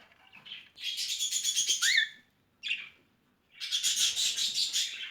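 Young pet birds in a nest box chirp in shrill, rapid bursts, close and fairly loud, with a short pause and a brief call between two longer stretches of tweeting.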